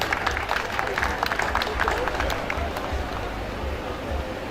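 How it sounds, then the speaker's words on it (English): Convocation ceremony audience at a Nigerian university applauding the Vice Chancellor, a broad burst of clapping and crowd noise with voices mixed in, fading slightly toward the end. "the Vice Chancellor deserves another round of applause"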